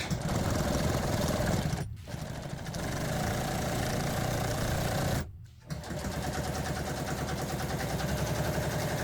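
Sewing machine stitching black thread through upholstery foam along a marked line, a steady mechanical whir running almost continuously with two brief pauses where it stops and restarts.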